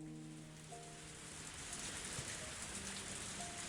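Heavy rain in the video game Higurashi: When They Cry, a dense, steady hiss of downpour filling the scene, constant and moderately loud with a faint musical tone fading in the background.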